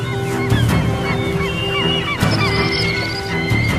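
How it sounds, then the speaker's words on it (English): A flock of birds honks loudly and continuously near an icy coast in Japan where boats trawl for fish, with overlapping goose-like calls in irregular bursts. "Flocking from sheltered valleys, birds time their arrival with these daily excursions."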